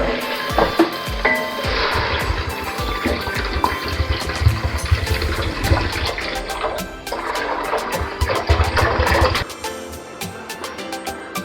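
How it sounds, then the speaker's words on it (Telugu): Water poured into a pot of frying chicken for chicken biryani, a loud, continuous sizzling splash and hiss that stops abruptly near the end. "చికెన్ ఇలా కాస్త ఫ్రై అయ్యాక దీనిలో వాటర్ యాడ్ చేసుకుందాం"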